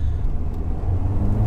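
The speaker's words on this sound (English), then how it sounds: "Turbo's kicked in." A turbocharged 240hp Mk1 VW Golf GTI pulls hard from second gear, a deep, steady engine drone heard from inside the car at a constant, fairly loud level.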